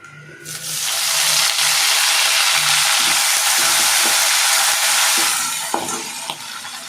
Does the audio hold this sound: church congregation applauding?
no